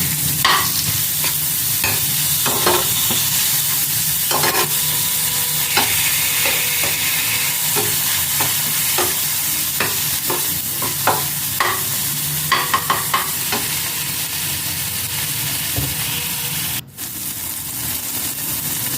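Tomatoes and salt frying in a pan with oil and turmeric, a dense continuous sizzle with regular spatula scrapes and taps throughout, close and loud, ending with a sharp knock near the end; no talk.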